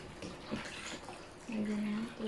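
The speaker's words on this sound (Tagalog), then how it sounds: "Lagyan ko ng tubig" Tap water runs into a bowl of sweet potatoes, a soft splashing pour rising midway and continuing, recorded close but quietly, with a faint tonal hum underneath.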